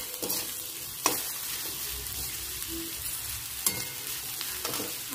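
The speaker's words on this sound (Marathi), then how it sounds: "बटाटे आपले चांगल्या प्रकारे फ्राय झाले" Potatoes sizzle in hot oil in a pan while cooking for sabudana khichdi, a constant close crackle with a few sharp clinks of a stirring spoon against the pan.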